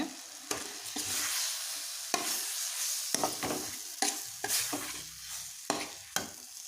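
Semolina sautéed in a pan for a banana sweet, loud scraping stirs repeating at irregular intervals over a continuous dry sizzle, each stroke close and sharp; no one talks.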